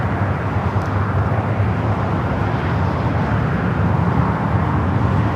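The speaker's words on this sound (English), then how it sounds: "ITA now pushing back, the flight heading back to Rome on that A350-900." Jet engines of an ITA Airways Airbus A350-900 airliner at LAX airport drone steadily as it pushes back, a loud, constant broadband roar with no talk over it.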